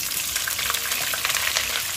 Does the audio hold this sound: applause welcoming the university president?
no